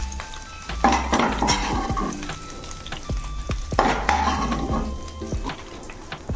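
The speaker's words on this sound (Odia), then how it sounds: "ସାରୁ ଆଳୁ ଟିକେ ଭାଜି ହେଇଗଲାଣି" Taro and potato pieces fry in hot oil for a Odia saru masala curry, with a steady sizzle broken by repeated sharp scrapes and clinks of a spatula stirring against the pan, close and fairly loud, with no talking.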